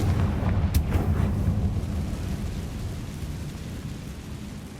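A fire spell explodes in Hogwarts Legacy as a deep, rumbling blast that rolls on as a sustained roar with crackling debris, loud and dense throughout, no speech.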